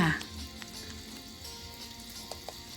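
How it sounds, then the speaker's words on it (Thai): Chili paste stir-frying in oil in a pan, a continuous soft sizzle with a few faint scraping stirs, close and steady throughout. "เป็นขั้นตอนของ การผัดน้ำพริกนะคะ"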